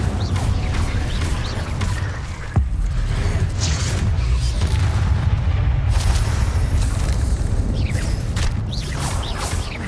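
Spell explosions in a Harry Potter video game, with Incendio, Confringo and other spells landing as a series of booming blasts and sharp crashes over a rumbling, busy background, loud and close.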